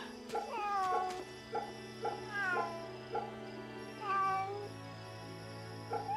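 A cat meowing in the Fate/Samurai Remnant video game, repeated short mews in a steady rhythm over sustained game music.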